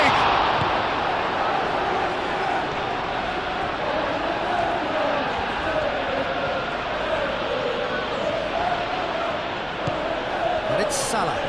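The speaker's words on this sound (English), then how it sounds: "the crowd are reacting to that now" Stadium crowd at a Premier League football match between Aston Villa and Liverpool, a continuous loud roar that swells and holds, with a commentator talking over it.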